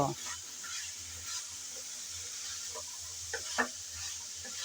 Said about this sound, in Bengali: ডাটা দিয়ে আলু ডাটা ভালো করে নেড়ে চেড়ে কিছুক্ষণ কষিয়ে নেব